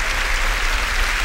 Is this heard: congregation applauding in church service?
yes